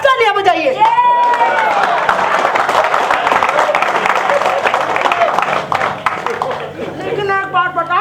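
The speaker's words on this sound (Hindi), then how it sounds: "अब तालियां बजाइए।" Audience applause and cheering fill a hall at a live Hindi storytelling performance, with steady dense clapping mixed with crowd chatter and whistles throughout, loud and close.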